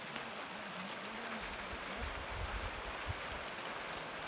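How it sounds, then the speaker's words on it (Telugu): Rain falls in a forest as a dense, even patter and hiss throughout, fairly faint, with a low hum faintly beneath it. "వర్షంలో కూడా వీడియో తీస్తున్నాము."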